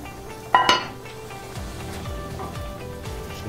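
A beef stew being stirred in a Dutch oven, with one sharp clink of a utensil on the pot followed by soft scraping and gentle stirring sounds, fairly close.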